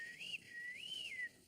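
A person whistles a wavering, high tune in two rising-and-falling phrases, close and clear, with no talk over it.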